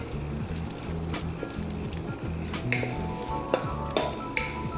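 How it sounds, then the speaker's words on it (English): Smoked turkey wings drop into a simmering pot of southern-style green beans, setting off bubbling, sizzling and soft splashes with a few clanks from handling the pot. "Now it's time to add the turkey wings in"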